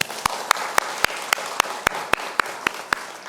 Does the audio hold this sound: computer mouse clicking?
no